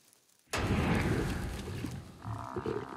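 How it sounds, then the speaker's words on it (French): Lions fighting behind a bush, a sudden loud burst of growling and roaring struggle that erupts after a near-silent moment and continues thickly, with a steadier tonal drone entering toward the end. "Ils entendent derrière ce buisson des bruits qui ne trompent pas, des bruits de lutte."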